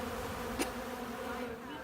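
A faint, steady insect buzz of backyard bees in Chicago hovering nearby, with one brief louder click midway, otherwise constant and unbroken.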